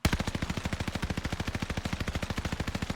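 A DP27 machine gun fires in a video game, one sustained burst of rapid, evenly spaced loud shots lasting about three seconds.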